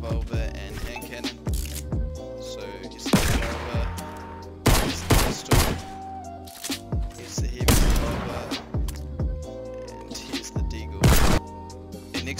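Fortnite handguns (revolver, pistol and hand cannon) firing in-game, sharp single shots and short bursts spaced irregularly over about twelve seconds, each crack loud against a quiet background.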